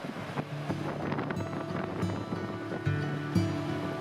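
A headwind buffeting a canoe on an expedition, steady roaring gusts across the microphone with faint water and paddle sounds beneath, continuous and loud, no speech.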